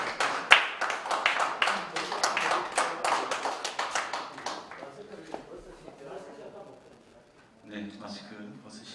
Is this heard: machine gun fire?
no